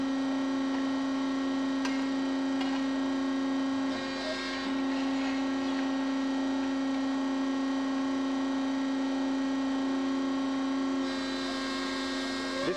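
A Model 214 MS heavy duty tube and pipe bender bends a 4-inch diameter, 14 gauge tube, giving a loud, steady mechanical hum with a sustained tonal drone that runs unbroken throughout, with no talking.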